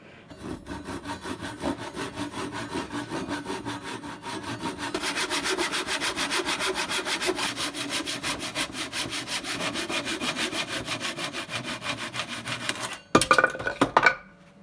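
A hand saw cuts off a marked two-foot length of wooden board for a workbench, building into steady rhythmic rasping strokes that end with a sharp cracking snap as the unsupported piece splinters off.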